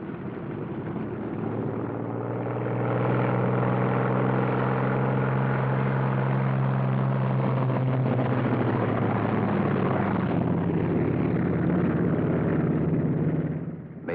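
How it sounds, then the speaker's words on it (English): A P-47 Thunderbolt fighter taxiing out on an airfield, a steady loud piston-engine drone that swells over the first few seconds and holds, tonal and rumbling, before easing off at the end. "First pair off. Second pair taxis out."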